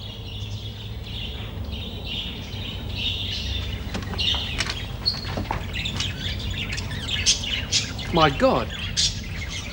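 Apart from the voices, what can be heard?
many pet birds chirping and squawking in a room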